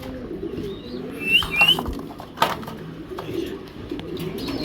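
Pigeons at a seller's stall offering shortface and racer birds coo and call in low, soft murmurs amid busy background noise, with a few brighter chirps and a brief rustle of movement.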